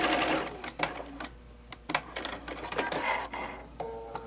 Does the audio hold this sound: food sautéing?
no